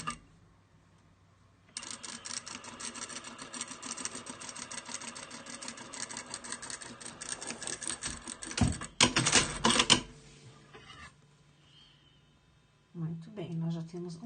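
A sewing machine stitches fabric along a geometric volumetric design, running steadily for several seconds at close range with a brief louder burst, then a voice speaks at the end.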